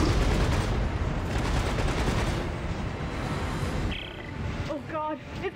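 Rapid explosive-ammo gunfire in Dead Space 3, a dense sustained burst of loud shots and blasts that fills most of the stretch before thinning out, with game sounds and brief tonal cues near the end.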